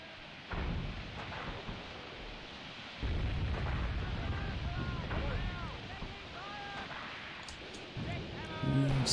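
Grenade blasts from a Tunisia 1943 tank battle game burst as low booming thuds, a big one near three seconds, mixed with rumbling battle noise and faint whistling tones.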